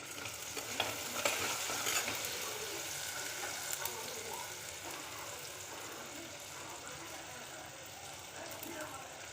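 Onions sauté in a pan for a katla fish head curry, a steady sizzling hiss with soft scraping stirs, louder in the first seconds and then settling into an even fry.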